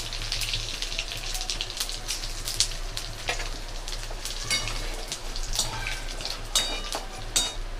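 Whole spices, including panch phoron, cumin seeds and dried red chillies, temper in hot oil for dalia khichdi, producing a continuous close crackle and sizzle with scattered sharp pops.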